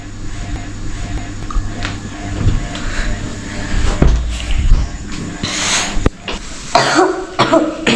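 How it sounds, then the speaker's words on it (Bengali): A child with a cold coughs several short times amid household clatter and faint voices, close by and irregular. "ঠান্ডা লেগে গেছে কাশি হচ্ছে কেন"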